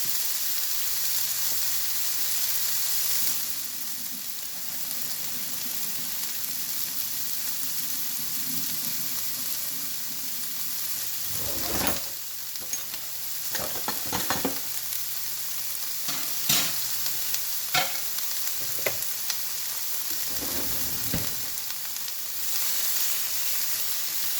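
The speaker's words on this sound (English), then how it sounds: "Alright, so this is sauteing very nicely." Jerk chicken ingredients for rasta pasta sauté steadily in a pan, a constant hiss with a faint low hum, broken midway by several scraping stirs and clatters.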